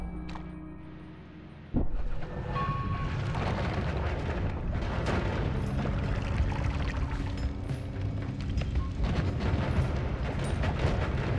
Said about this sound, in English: Was that the worm crystal exploding?